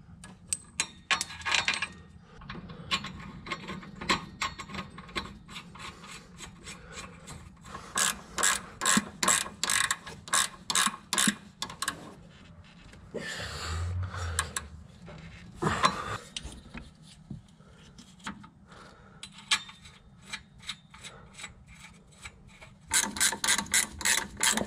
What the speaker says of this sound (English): we'll bolt the shockers back up